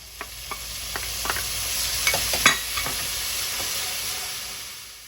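Young mugwort leaves stir-frying in a hot pan give off a loud, continuous hiss, with scattered spatula scrapes and taps breaking through it.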